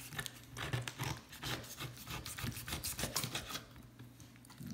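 A dull knife cuts along a rack of pork ribs, making close rasping, scraping strokes in an uneven rhythm that continue throughout, quiet and alone without talk.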